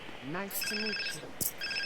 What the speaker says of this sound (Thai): มีโทรศัพท์เข้ามา รับ